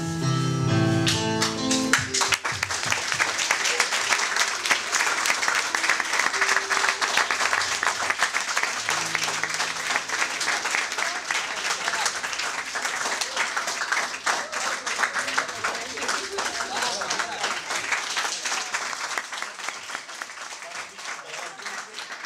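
Sustained audience applause fills a hall after a song at a school dormitory entertainment evening, dense steady clapping that starts abruptly after a brief musical ending and continues loud and even throughout.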